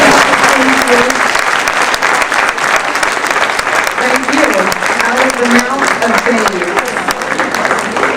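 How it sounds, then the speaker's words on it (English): Dense, sustained applause from a Hall of Fame ceremony audience fills the room steadily at full volume, with voices and cheers rising through it. "Ladies and gentlemen, one more round of applause"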